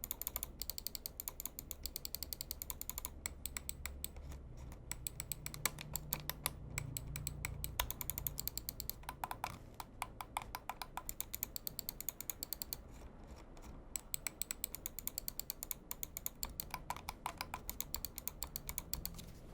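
Rapid clicking from an OKER G62 gaming mouse, close and crisp, comes in long bursts of fast repeated taps with short pauses between runs, like the button being hammered.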